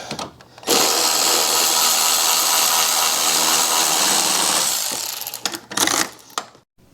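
A power ratchet runs in one long loud whirring burst while tightening 13mm axle bolts on a VW Jetta, followed by a few short clicking spurts and metallic clinks as it stops.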